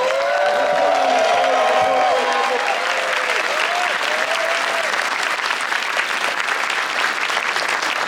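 Convention audience applauding at New York Comic Con during a Magic: The Gathering card reveal, a dense sustained clapping with some cheering that runs the whole stretch, loud and steady, with a voice briefly heard early on.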